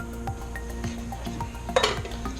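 Spoon scraping and clinking against a metal pot while cocoa is stirred into a no-bake cookie mixture, with soft, irregular strokes and scrapes and one sharper clink near the end, all fairly quiet and without talk.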